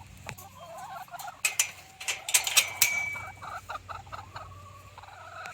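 Chickens cluck and squawk in an open farmyard, a cluster of close, lively calls in irregular bursts over quiet outdoor background.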